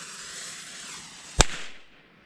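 A single sharp firecracker bang cracks out over a hissing fuse, then fades into a brief echo and quiet.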